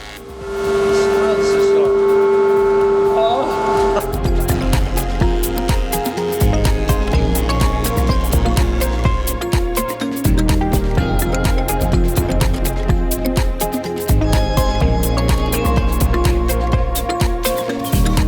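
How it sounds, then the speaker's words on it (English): Thickness planer and dust extractor running on timber during joinery work, a loud continuous machine roar with dense rattling and cutting bursts, and a voice talking over it. "All I've got to do now is plug the extractor in."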